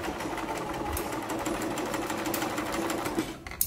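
Sewing machine stitching a small fabric purse, a steady close whirring hum with rapid needle rhythm running continuously, then stopping at the end.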